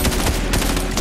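Continuous rapid gunfire from a Fortnite match, dense and loud bursts packed tightly together with no pauses across the whole moment.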